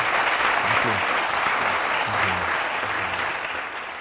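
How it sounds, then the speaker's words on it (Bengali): A studio audience on a courtroom-style television talk show breaks into sustained applause, a dense, steady wash of clapping that fades slightly at the close, with faint background voices. "আমি চাইবো ওর জন্য লোক অনেক হাততালি দিক"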